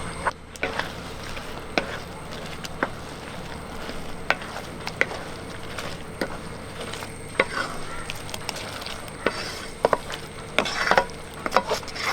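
Soaked, washed and squeezed soya chunks fry in a salted masala, with a continuous close sizzle broken by frequent clicks and scrapes of stirring.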